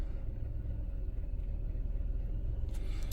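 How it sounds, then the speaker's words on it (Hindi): A Nissan Dayz Highway Star hybrid kei car engine runs with a steady low rumble right after starting, heard from inside the cabin, continuous and fairly loud with no talking. "ये गाड़ी का स्टार्टअप है।"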